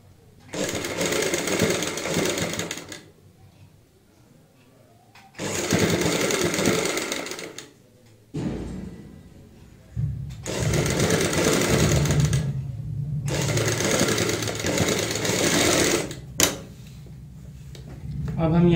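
A sewing machine stitching a double seam on a kurti neck design runs in four loud bursts separated by pauses, while someone talks during the gaps.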